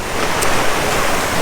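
Loud, steady wash of ocean waves breaking on the sand at Waikiki Beach, Hawaii, a continuous broadband surf roar with no voices over it.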